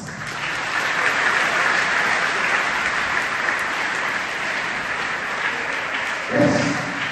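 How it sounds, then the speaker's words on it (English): Audience applause at a school Independence Day celebration on stage, steady dense clapping filling the whole stretch, with a brief louder burst near the end. "Give her a big round of applause"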